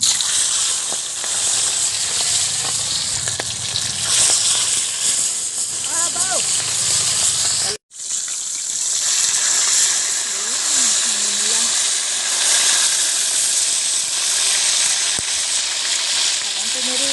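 Fresh talakitok fish sizzles and spits steadily in a hot pan of oil, a dense continuous frying hiss with a brief cut in the middle, while people talk faintly in the background.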